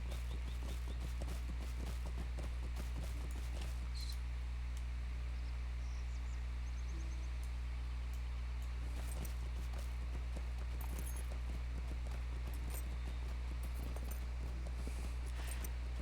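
Horse hooves clip-clop in the Lord of the Rings Online video game, a quiet, irregular patter of clicks over a low steady hum, with faint chirping insects in the background.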